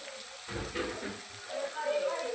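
Chili and garlic paste fries in a pan with a soft, steady sizzle and occasional stirring scrapes, while someone speaks quietly over it.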